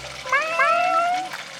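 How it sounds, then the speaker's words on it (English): Cartoon kittens in a toddler animal puzzle game let out a couple of high, rising meows in quick succession, close and clear over a faint watery background. "Wow, there's some cute kittens."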